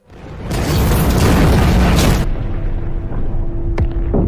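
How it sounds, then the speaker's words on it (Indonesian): A bomb explosion in a World War II war film set in Thailand lands as a loud, close boom with a rumbling roar that fades into debris and lingering noise. "Kali ini mereka berdua pun tidak luput dari ledakan bom yang membuat mereka beberapa kali terpental akibat efek dari ledakan"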